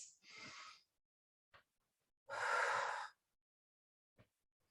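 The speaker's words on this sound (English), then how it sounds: "I like breathing in, exhaling down." Breaths during a chair exercise: a short inhale, then a longer, louder exhale, with faint brief breath sounds between, close and quiet with no talk.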